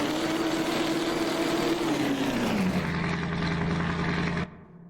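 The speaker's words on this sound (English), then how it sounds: "So you can hear sort of the whine of the straight cut gears from the actual tumbler here" A video game tumbler engine drones with a high whine from straight cut gears, the pitch holding and then dropping as revs fall, loud and close before cutting off abruptly.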